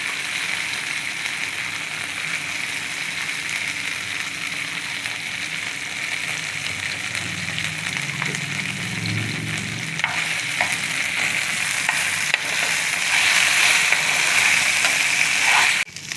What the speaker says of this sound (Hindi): इसमें सभी अरबी डाल के, पूरा जो भी हमने इसमें हल्का हल्का मसाला दिया है सब साथ में अच्छे से फ्राई कर लेंगे